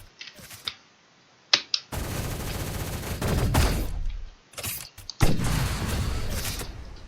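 Video game gunfire: loud rapid bursts of automatic shots, two long sustained volleys with a few single cracks between them, close and alone without talk.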